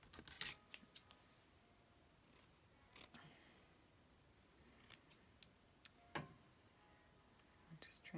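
Scissors snipping paper to trim a handmade journal tag: a few soft, close snips and paper rustles scattered over quiet room tone, with faint whispery movement between cuts.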